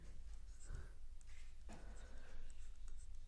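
Pen scratching across paper while working a maths problem on percentages, a soft continuous rubbing that runs under a teacher's voice speaking Hindi throughout.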